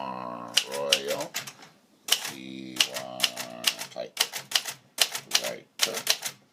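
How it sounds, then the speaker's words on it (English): A 1960s Royal Safari portable manual typewriter being typed on, giving sharp metallic key strikes in quick irregular bursts with brief pauses, while someone talks over much of it. "Welcome to our listing for a Royal Safari portable typewriter from the 1960s."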